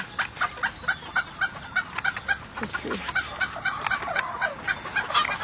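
A live chicken clucks during an oracle-style reading with lettuce, giving a steady run of short, close clucks and cackles, with a brief spoken remark near the start.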